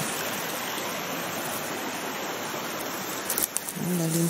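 A mountain stream flows through a larch forest in the Suntar-Khayata Range, a steady, close rushing wash of water that fills the scene, with a voice speaking briefly near the end.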